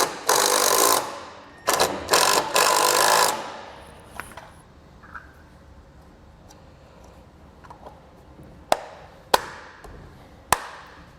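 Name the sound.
driving self-tapping screws to mount a trailer clearance light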